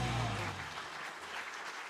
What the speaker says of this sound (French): Et vous applaudissez tous les deux, s'il vous plaît.